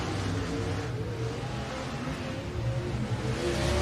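A dirt track race car's engine roars steadily and builds toward the end, a loud sustained drone of revving close by, with no talk over it.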